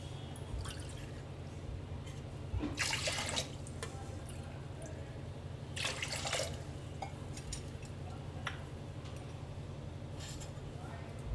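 Bowls of water are poured over washed toor dal in a home kitchen. Two short, faint splashing bursts sound over a low steady background hum.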